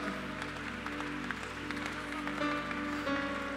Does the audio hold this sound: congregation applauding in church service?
yes